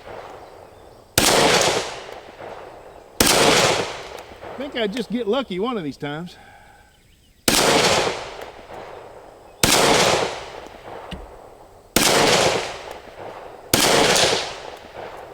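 Glock 20 SF 10mm pistol firing single sharp, loud shots spaced a second or two apart at an outdoor range, about seven reports in all, with someone talking in between.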